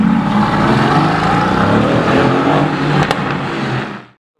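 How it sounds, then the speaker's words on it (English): A Ferrari V8 revs loudly nearby, a sustained roaring engine note that holds strong for about four seconds before cutting off abruptly into silence. "Listen to that V8."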